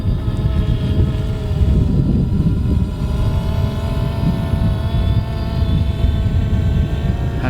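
A DJI Phantom 2 drone on its second test flight gives a continuous, fairly loud whirring drone with a steady tonal hum and a rough low rumble, no voices.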